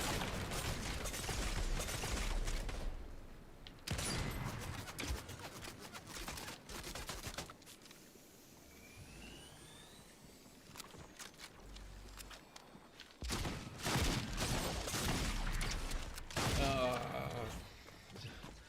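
Bursts of gunfire and shotgun blasts from a shooter video game come in loud clusters separated by a quieter stretch in the middle, with game ambience and movement sounds between the volleys.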